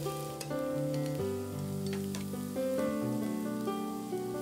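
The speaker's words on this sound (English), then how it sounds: "Add the chopped garlic clove and continue stirring" Chopped garlic sizzles as it is stir-fried in a pan for Japanese pork and egg fried rice, a steady frying hiss under prominent background music, with no speech.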